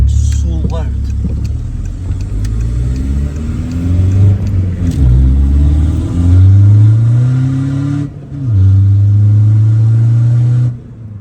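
1.9 TDI diesel engine with a 3-inch downpipe and no exhaust roars loudly up close, revving repeatedly through rising gears with a brief lift-off pause before pulling again.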